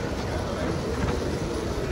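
The Kondaveedu Express, a 22-coach LHB passenger train, running along the track, heard from on board as a steady rumbling roar with rattling, constant throughout at moderate loudness.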